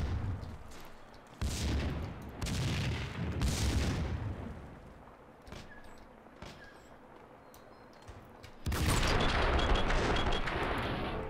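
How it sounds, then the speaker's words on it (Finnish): Gunfire in the video game Max Payne 2, with several loud bursts of shots in the opening seconds, scattered single cracks through the middle and a heavy, sustained barrage near the end. "Mistä ammuta?"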